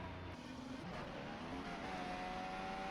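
Onboard Alex Albon's Formula 1 race car during qualifying at the 2023 Russian Grand Prix, a steady high-pitched engine whine at speed with rising tones, faint under distant commentary.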